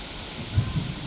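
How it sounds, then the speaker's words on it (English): Steady rain drumming on a tent during a thunderstorm, a dense continuous patter with a couple of low rumbles of distant thunder beneath it. "listening to the sound of the rain"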